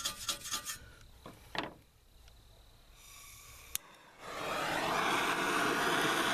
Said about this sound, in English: now I'm going to use this little propane torch to get it hot as I can get it